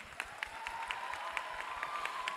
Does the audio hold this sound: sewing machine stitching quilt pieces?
no